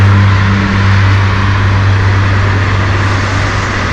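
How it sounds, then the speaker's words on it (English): A loud Nissan R32 GT-R engine rumbles close by as the car passes beneath a bridge in Tokyo, steady low drone with broad road noise throughout. "Ooh, R32 GTR coming."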